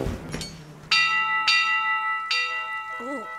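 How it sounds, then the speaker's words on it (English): Fire station fire bell ringing in loud, bright metallic clangs, three strong strikes each leaving a long shimmering ring, with a short voice sound at the end. "Sparky, would you mind ringing the fire bell again?"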